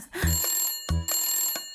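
A cartoon telephone rings in two loud, bright electronic bursts close up, with a short gap between them and no talk.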